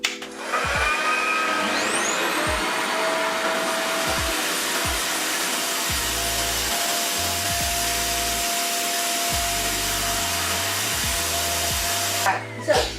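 A Revair reverse hair dryer runs steadily and loudly while drying a child's natural hair, a constant whooshing drone with shifting pitch as it passes through sections.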